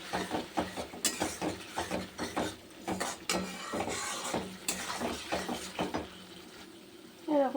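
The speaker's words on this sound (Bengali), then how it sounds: "আর একটু কষবো।" Spice paste with salt and a splash of water being stir-fried in a pan for pangas fish curry: a soft steady sizzle under repeated scraping strokes of a spatula against the pan, close and fairly quiet.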